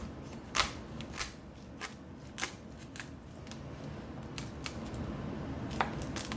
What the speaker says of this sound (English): So what I do is I put it on this side and I just try to cut it right down the middle.